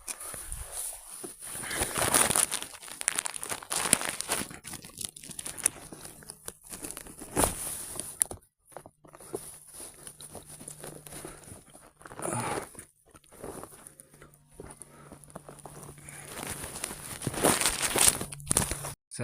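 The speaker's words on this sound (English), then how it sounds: "So I'll get my pocket knife out and I'll cut it at the stem." A small pocket knife working through the stem of a salmon gum bolete mushroom while foraging outdoors, with steady close rustling, crinkling and scraping, some louder bursts and short quieter gaps.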